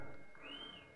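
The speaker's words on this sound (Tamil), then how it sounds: "யார் விசில் அடிக்கிறது?" A single rising-then-falling whistle rings out from the crowd at a film audio launch event, moderately loud over a murmuring hall.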